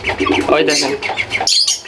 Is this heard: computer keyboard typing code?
no